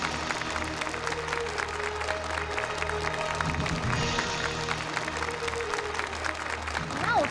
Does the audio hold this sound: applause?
yes